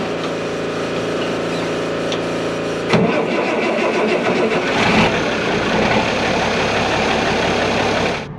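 An engine cranks and then catches, roaring to life with a loud, close start, then settles into a rough, rumbling idle with a short rev midway before cutting off at the end.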